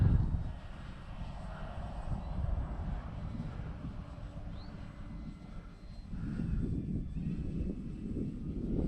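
An FMS P-40B Flying Tiger RC model airplane flies overhead, its electric motor a faint whine over steady low wind rumble on a grass field, louder toward the end, with no talking.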